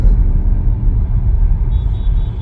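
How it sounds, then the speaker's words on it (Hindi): Steady low rumble of heavy road traffic on the NH48 highway heard from inside a moving car, continuous engine and road noise with no talking. "बहुत ज़्यादा यहाँ पे ट्रैफिक है"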